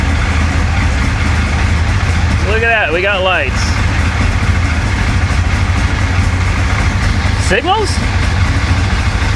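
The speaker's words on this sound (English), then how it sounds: "Damn, that engine is noisy." A hurricane-flooded 1966 Chevy Impala with a 427 engine idles with a loud, steady, rough rumble throughout, close by, while someone talks over it.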